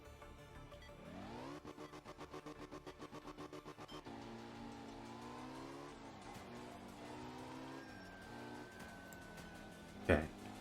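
A Porsche rally car in a racing video game, on a rally stage in Germany, revs hard with a rising engine whine, then a stuttering, pulsing rev, then steady high-pitched engine drone as it accelerates, with a sharp clunk near the end.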